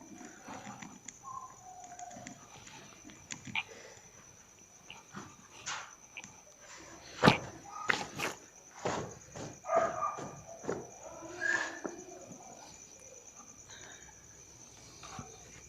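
Dogs barking at night outdoors, a series of irregular sharp barks, some near and some farther off, over a steady high chirping of insects.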